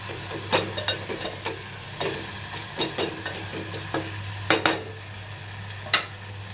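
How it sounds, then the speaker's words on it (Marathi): A spice mixture frying in oil for dal khichdi is stirred with a utensil, giving repeated crisp scrapes and clinks over a steady sizzle and low hum, close by with no talking. "आणि छान सगळे मिश्रण हे आपण परतून घेऊया चांगलं. मिश्रण थोडंसं हलवून घेऊया आपण."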